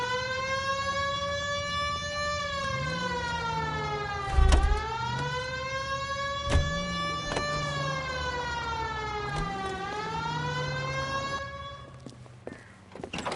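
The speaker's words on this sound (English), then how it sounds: "Hit the siren." A wailing police car siren in the video game L.A. Noire rises and falls in long repeated sweeps, loud and close, with a few thumps and clicks underneath.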